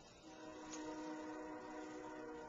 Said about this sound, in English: Sorry, I have a train in the background.